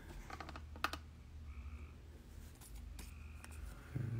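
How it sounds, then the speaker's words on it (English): Frogs croak in a yard as faint, repeated calls in the background, mixed with scattered clicks and taps nearby and no speech. "I got frogs in the yard making a bunch of noise."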